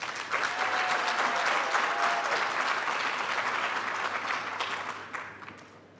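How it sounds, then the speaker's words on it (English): A graduation ceremony audience in a large hall bursts into sustained applause, a dense wash of clapping that holds for several seconds before fading out near the end. "May you give them a round of applause."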